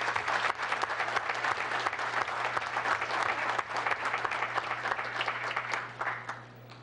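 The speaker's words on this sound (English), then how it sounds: "so could you please give him a big round of applause?" Applause from the audience at a town council meeting, many hands clapping steadily and fairly close, with a low steady hum running beneath.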